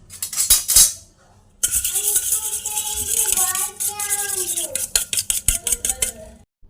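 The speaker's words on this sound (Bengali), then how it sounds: "প্রথমে নিয়ে নিয়েছি আমি একটি ডিম, দিয়ে দেবো 1 চামচ চিনি, তারপর দিব লবণ। এবার ভালো করে মিক্স করে নেব।" Egg being whisked with sugar and salt in a bowl, a spoon clinking and scraping rapidly against the dish in repeated bursts after a brief pause, close and clear with no talk.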